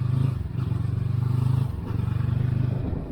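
A motorcycle engine revs in a steady, throbbing drone, dipping briefly as the throttle is blipped for a clutchless gear shift, then pulling again at close range.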